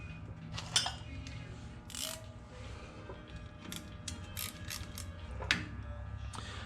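Ratcheting clicks and metallic creaks of a wrench tightening bolts on a Jeep Dana 25/27 axle knuckle, close and moderately loud, in bursts of rapid pawl clicks with brief pauses between.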